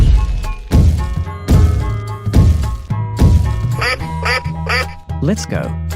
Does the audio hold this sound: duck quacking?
yes